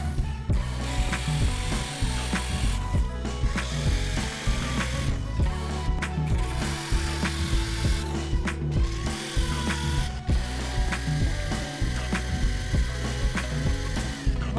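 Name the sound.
drilling holes through wall insulation boards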